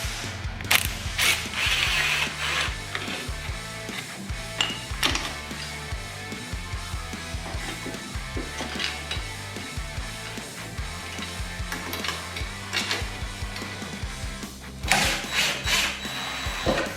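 A hand ratchet clicks repeatedly in quick bursts of pawl ticks while bolts on a Yamaha MT-07 motorcycle crash cage are tightened, close and fairly loud, with metallic clinks between strokes.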